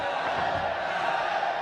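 Crowd at a Muay Thai fight in Lumpinee Stadium, Bangkok, cheering and shouting: a loud, continuous wall of massed voices with whoops and yells, steady throughout.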